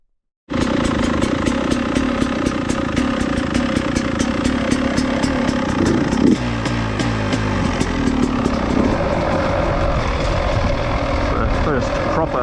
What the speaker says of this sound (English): Give her a start up and see what she sounds like.